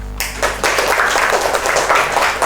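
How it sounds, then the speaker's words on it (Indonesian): A classroom of students breaks into loud, dense applause, steady rapid clapping that continues to the end after a short quiet start. "Berikan tepuk tangan."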